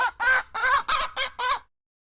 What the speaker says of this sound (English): Crazy-ass chickens.